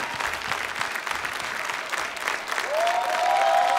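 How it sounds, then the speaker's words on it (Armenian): An audience at a TV singing contest applauds, dense continuous clapping that near the end is joined by a sustained musical tone. "թող որ ծափարությունները չդադարեն։"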